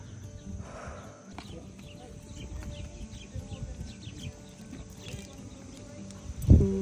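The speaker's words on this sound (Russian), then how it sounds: "Мою лошадку зовут Черри." Hooves of a farm horse clip-clop steadily at close range on a family farm, with a few faint bird chirps in the background and a sharper knock near the end.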